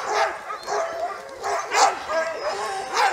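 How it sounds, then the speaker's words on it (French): Impatient sled dogs at a morning training session barking and yelping in a noisy, overlapping pack chorus, close and continuous with rising and falling bursts. "les chiens ils gueulent parce que ils sont impatients"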